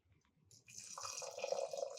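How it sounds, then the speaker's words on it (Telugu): Water pours steadily into a pot for cooking rice for a Sankranti chakkara pongali, a thin trickle building to a fuller splashing stream over a couple of seconds, close and alone with no talk. "1కి 2 నీళ్ళు పోస్తే సరిపోతుంది"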